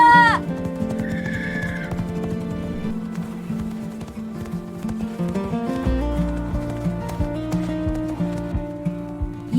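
A horse whinnies near the start, among other animal calls and a musical backdrop, followed by steady sounds that may be hooves on the ground.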